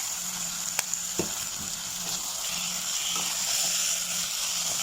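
Bite-size chicken pieces seasoned with pepper frying in a pot for chicken sotanghon soup, a constant bright sizzle with occasional soft clicks and stirring knocks.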